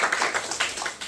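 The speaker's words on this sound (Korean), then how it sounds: "박수 한번 다시 한번 성가대" A church congregation claps for the choir at a Thanksgiving Sunday service, a brief burst of scattered, uneven hand claps from many people heard alone without talk.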